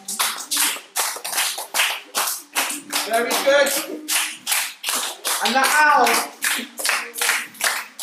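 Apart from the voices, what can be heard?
children clapping hands and stamping feet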